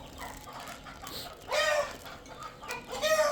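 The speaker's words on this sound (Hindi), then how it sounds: "दोस्तों ये बहुत कीमती मुर्गी है।" Aseel chickens clucking nearby, with a few short, bright bursts of clucking in bursts over a quiet background.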